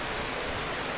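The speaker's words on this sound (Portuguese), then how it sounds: "Olha a chuva aqui, ó." Heavy rain pours down steadily over the town of Cristino Castro in Piauí, Brazil, under cloudy December skies, forming a dense, continuous hiss that runs unbroken through the whole moment with no voices.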